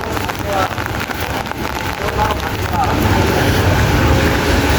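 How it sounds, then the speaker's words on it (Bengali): Rain falls outdoors on an Italian street as a steady, dense wash of hiss and patter, with a windy rumble underneath and some voices nearby. "বাইরে বৃষ্টি হচ্ছে"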